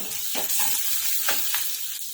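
Peanuts, garlic, curry leaves and tomato roasting in a pan, a steady close sizzle with a few scraping stirs of a spoon, no talking.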